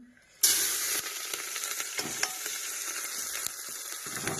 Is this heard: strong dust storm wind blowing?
no